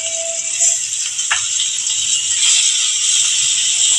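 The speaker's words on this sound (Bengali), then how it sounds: "এখন কিন্তু আমার তেল গরম হয়ে গেছে, আমি এক এক করে চিংড়ি মাছগুলো ছেড়ে দিচ্ছি।" Prawns dropped one at a time into hot oil for a mild Bengali ridge gourd and prawn curry, frying with a steady loud hiss and crackle, one sharp splash partway through.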